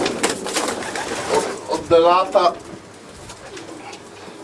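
Racing pigeons coo close by in a loft in a short burst of throaty, rolling calls, while someone talks over and around them.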